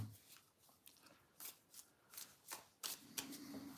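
Tarot cards being shuffled by hand: a run of soft riffling bursts and papery slaps, fairly close and quiet, with no talking.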